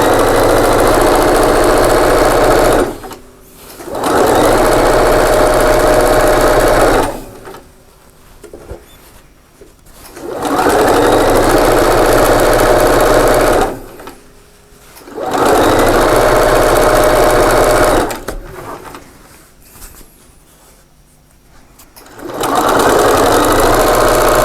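A sewing machine stitches a quarter-inch seam on a quilted table runner in long, loud, steady motor-driven runs of several seconds each, broken by brief pauses, close up with no talk.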